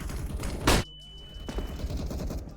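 A single sharp bang from a flashbang grenade in a shooter video game, one brief loud burst followed by a high ringing tone and muffled game sounds beneath.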